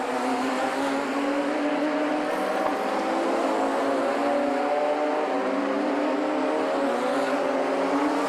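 Radical race cars run through the S's at Donington, several engines overlapping in a steady, loud multi-car drone with rising and falling pitch as they feed through the bends, no voices.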